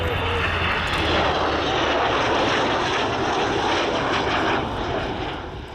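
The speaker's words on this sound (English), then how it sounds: "running in from the right is Avro Vulcan XH558" Avro Vulcan XH558 jet bomber roaring past at an airshow display, a loud sustained broadband engine rumble that swells and slowly fades, with a commentator talking over it.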